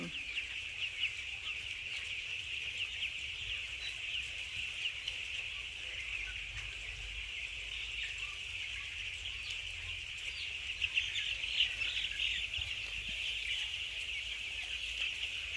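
Broiler chickens about fifteen days old, raised on reused rice-husk bedding on a farm, a dense continuous chorus of peeping and clucking from many birds, steady and moderately near, without talk.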